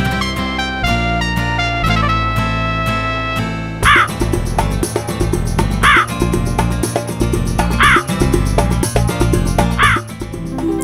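A cartoon crow in a Spanish-language children's story caws in loud, harsh calls roughly every two seconds, layered over busy background music.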